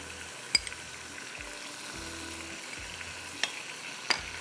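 Mutton frying with ginger garlic paste and spices, a steady low sizzle from the pan, broken by a few sharp clinks of a spoon against the pot; close and moderately quiet, with no speech.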